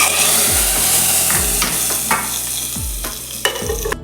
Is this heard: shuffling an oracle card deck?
no